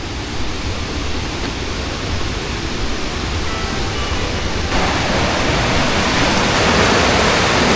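The Neora river in the Dooars rushes through a diverted channel, a dense, loud, unbroken roar of flowing water that swells slightly partway through, with no voices.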